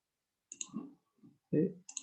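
A computer mouse clicks while a user works in Global Mapper software: a few soft, close, separate clicks spread across two seconds, heard alone.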